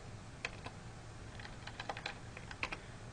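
Quiet typing on a computer keyboard, with scattered, irregular keystrokes clicking close to the microphone over a faint steady hum and no voices.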